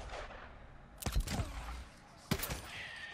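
Two sharp gunshots in Days Gone, each a loud close crack followed by a short decaying echo, spaced about a second apart over a quiet, faintly rumbling background.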